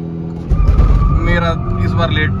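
A Kia Seltos and a Hyundai Verna launch side by side in a drag race, their engines surging into a loud, close roar that holds steady for a couple of seconds, with voices underneath.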